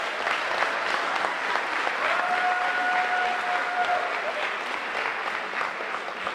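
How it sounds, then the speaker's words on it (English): A football banquet crowd gives a loud round of applause, with steady, full clapping throughout and a faint high tone briefly ringing through the middle. "let's give Luke Cardelli a huge round of applause."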